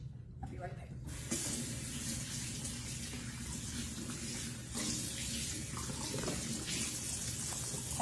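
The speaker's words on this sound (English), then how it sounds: "Let me give my hands a wash." Tap water runs steadily into a sink while hands are washed, a continuous close splashing hiss that starts about a second in and varies slightly as the hands move under the stream.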